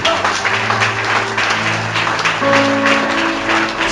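Congregation applauding in a church, a steady wash of clapping with sustained organ or keyboard tones holding underneath throughout.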